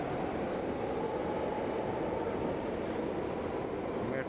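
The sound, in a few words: São Paulo metro train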